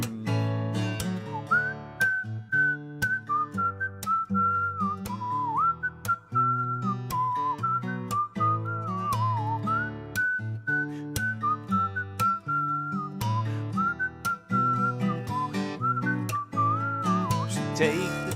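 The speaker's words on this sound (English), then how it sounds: "Let me hear you whistling." Whistling carries a melody along to a live song at a live-streamed gig, sustained over strummed guitar chords and steady rhythm, moderately loud and continuous throughout.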